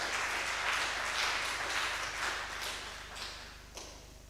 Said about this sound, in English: Could you please just give Simeon a round of applause, a proper one?